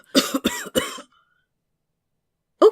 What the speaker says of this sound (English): He was bent nearly double and coughing uncontrollably, his entire body shaking with each cough.